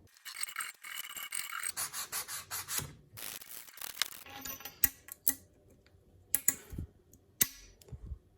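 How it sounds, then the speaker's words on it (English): Hand filing and sanding to remove burrs from a cut pipe end, heard close up as rhythmic rasping strokes followed by short scraping rubs and a few sharp ticks. "So I'm going to try filing this one down and trying to sand off any burrs"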